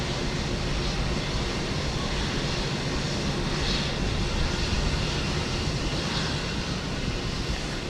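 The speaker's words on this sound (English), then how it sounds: "It's a 737-900, and it is going to Panama City." United Boeing 737-900 bound for Panama City at Houston Intercontinental, a steady, fairly loud engine rumble that holds evenly throughout without rising or fading, with no voices.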